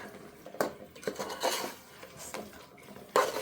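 Green chicken gravy masala is stirred in a pan with a spatula, giving scraping swishes and clinks of metal against the pan in irregular strokes. A faint sizzle sits underneath, with no talking.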